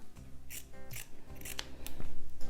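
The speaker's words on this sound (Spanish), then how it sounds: "vamos a recortar también el bolsillo, que este hemos dicho que le vamos a poner de esta telita" Scissors cut out a fabric pocket piece in a run of several crisp snips. Each one brings a short rasp of blades through cloth, all close and clear with no talking.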